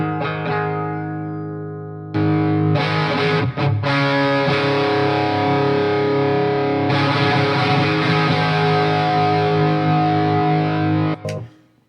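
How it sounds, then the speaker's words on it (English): A heavily distorted electric guitar, played through a distortion pedal at its lowest gain setting, rings out in sustained, buzzing chords with a few brief pick scrapes, loud and close, ending abruptly. "it's a distortion pedal, and even at the lowest gain setting, you're doing distortion"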